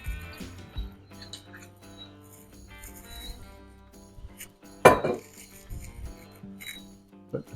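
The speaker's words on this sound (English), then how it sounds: "Put the pan on the stove and start it heating up" A pan is set down on a kitchen stove with a single sharp metallic clank midway, amid scattered lighter clinks and rattles of cookware while someone talks over a soft musical background.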